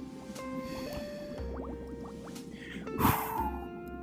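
Underwater swimming through a flooded cave in a video game: muffled squishy watery movement, drips and gurgles over a low rumble, with a louder bubbly surge partway through.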